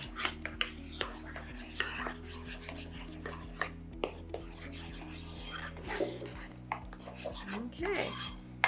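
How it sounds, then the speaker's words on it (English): Whipped cream is stirred by hand into a brownie topping in a bowl, giving soft rubbing and rasping sounds with occasional light taps, close and continuous over a faint musical backing. "And then I'm just going to stir it with my hands."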